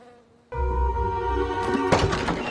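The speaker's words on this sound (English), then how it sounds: "Leave the bees alone." Bees buzzing in a comedy scene, a sudden loud insect drone starting after a short quiet, steady with tonal hum and rising rustling noise toward the end.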